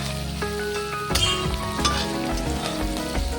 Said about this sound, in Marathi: आता मी ह्यामध्ये कांदा ॲड केलेला आहे. ह्याला आपल्याला चांगलंसं गोल्डन ब्राऊन करून घ्यायचं आहे.